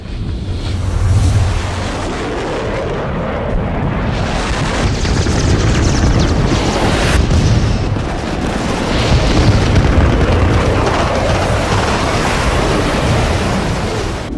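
An A-4 jet crashes into a frigate during the 1982 Malvinas war, producing a long, loud roaring rumble of explosion and rushing turbulence that swells and surges for many seconds, with wind-like noise throughout.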